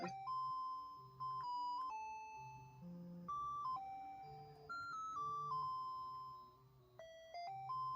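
Chiptune music from the NES game Krusty's Fun House: bright, bleepy square-wave melody notes stepping quickly up and down over a bouncy bass line, continuous and clear with no voices.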